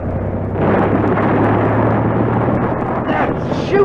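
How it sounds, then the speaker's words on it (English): Wartime flamethrower fired into the opening of a Japanese bunker after a tank runs up against it, a loud rushing roar swelling over a low engine rumble, close and sustained, ending in a brief burst. "up goes the flamethrower to scorch him out"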